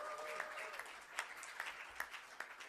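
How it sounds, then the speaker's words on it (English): Applause for child actor Sunny Pawar at an Australian Academy of Cinema felicitation, a fairly quiet but continuous wash of many hands clapping with occasional crisper claps popping out. "Round of applause for Sunny."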